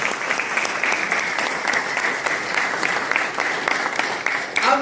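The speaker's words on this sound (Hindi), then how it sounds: "तो जोरदार तालियां" Loud, sustained applause from a gathered audience at a business-plan meeting, many hands clapping in a dense, continuous patter that swells slightly near the end.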